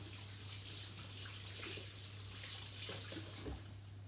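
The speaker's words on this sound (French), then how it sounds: "Je me rince juste les doigts." A kitchen tap runs steadily while fingers are rinsed under it, giving a faint, even splash and trickle with a low hum beneath. The water plays alone, with no talking.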